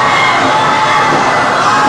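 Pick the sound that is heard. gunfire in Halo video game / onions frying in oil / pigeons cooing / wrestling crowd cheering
wrestling crowd cheering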